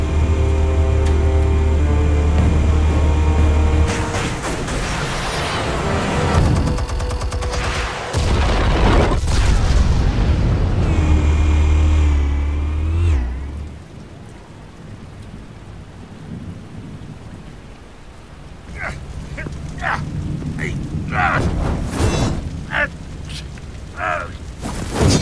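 Explosives detonate in a Batman video game, loud deep booms and rumbling blasts dominate the first half, then fade to quieter debris and crackling impacts.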